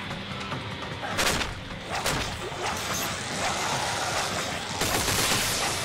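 Gunfire in the video game Dead Space 3 comes as dense bursts of rapid shots and booms over a loud, constant noisy din, with several sharp volleys spread across the clip.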